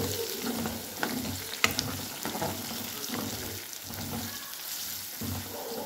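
Ginger, garlic, curry leaves and turmeric fry with onions and green chillies in a pan for a paneer curry, a steady close sizzle with occasional stirring clinks and scrapes throughout.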